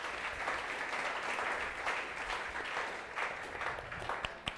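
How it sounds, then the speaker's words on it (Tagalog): Church congregation applauding for Jesus during a Sunday worship service, a steady wash of many hands clapping at moderate level throughout, with a few sharper claps near the end. "The best pong palakpak para kay Jesus"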